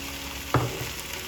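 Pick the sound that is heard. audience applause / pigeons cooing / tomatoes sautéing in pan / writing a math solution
tomatoes sautéing in pan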